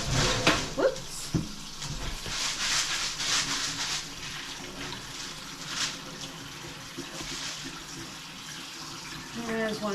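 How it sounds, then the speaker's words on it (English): Tap water runs steadily over bags of fresh cranberries being rinsed in a sink, a constant close splash with a few knocks and rattles from handling the berries. "I'm gonna go ahead and rinse these off."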